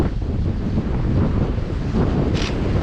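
Wind gusting at the edge of open sea where hydrofoil sailors ride, a steady roaring rush with waves and surf beneath, loud and close on the microphone, no voices.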